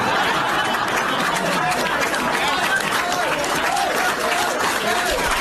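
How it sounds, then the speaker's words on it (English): A large audience laughs and applauds together in a dense, steady wash of clapping, chuckles and chatter that holds at an even level throughout. "They're laughing and applauding this."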